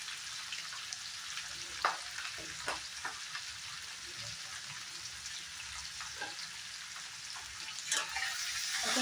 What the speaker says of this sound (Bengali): এখন পেঁয়াজটা আর কাঁচা লঙ্কা খুব সুন্দর করে ফ্রাই করে নেব